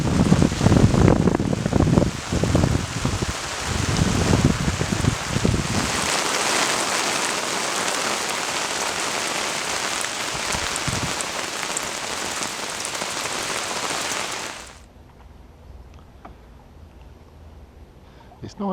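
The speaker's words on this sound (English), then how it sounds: "it's starting to rain" Steady rain falls by a lake while someone is out carp fishing, a loud close patter on surfaces mixed with rustling and handling noises, then it dies down to a faint hiss near the end.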